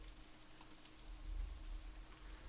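Steady rain falling in a visual novel scene, a soft continuous hiss with a low rumble underneath, quiet and even throughout with no voices.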